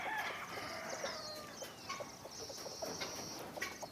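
Free-range country chickens roam a farm field, heard as faint, distant clucking with an occasional crow over a steady outdoor background, and no one speaking.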